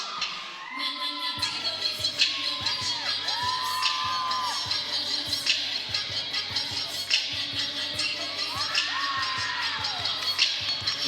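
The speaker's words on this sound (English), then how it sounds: "Hear the crowd going in the background." Crowd at a cheer and dance championship cheering and whooping continuously, with shouts, screams and loud bursts rising over steady arena noise and a thumping music beat.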